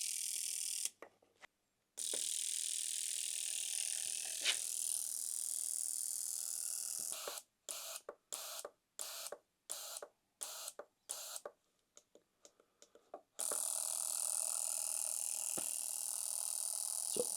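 A fuel injector from a 2013 Kawasaki KX250F buzzes on a tester, running a steady harsh hiss, then a rapid run of on-off pulses, then a continuous hiss again, close and clear.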